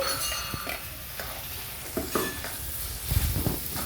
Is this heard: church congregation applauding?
no